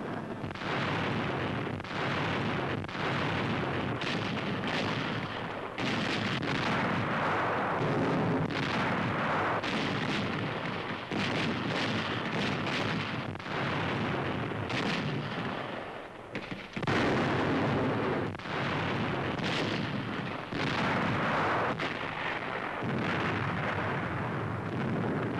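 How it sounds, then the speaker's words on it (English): Emplaced artillery guns in the hills firing on Nazi tanks in wartime combat, a dense, continuous barrage of loud booming blasts and explosions at close range, overlapping with no pauses. "Guns, emplaced in the hills, open fire."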